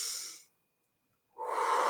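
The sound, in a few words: audience taking a deep breath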